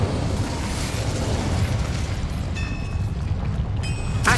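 An Incendio fire spell goes off in Hogwarts Legacy with a loud, sustained roaring whoosh of flame, and a few bright magical chimes ring out near the end.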